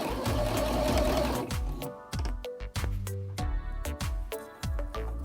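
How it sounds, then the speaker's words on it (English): Close, loud sewing machine sets the sleeves into the armholes of a coat made from vintage blankets. A whirring run slows into separate stitch thumps and short bursts that stop and start, with no talk. "Now I'm sewing the sleeves into the arm's eye."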